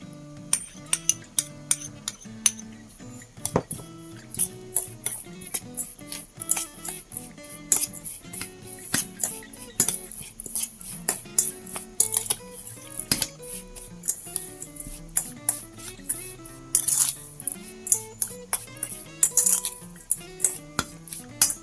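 Metal utensils scrape and clink steadily against a bowl while pistachio makmor filling with sugar and melted ghee is mixed, a busy close-up rhythm of taps and scrapes with no talking.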